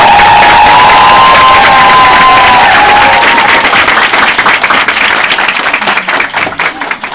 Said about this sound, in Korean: 다이아몬드 김문주 사장님을 큰 박수로 앞에 모시겠습니다.